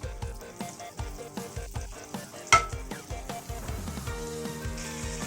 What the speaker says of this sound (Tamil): அதுக்கப்புறமா ஒரு 10 கிராம் பட்டர் விட்டுக்கோங்க. பட்டர் மெல்ட் ஆகட்டும்.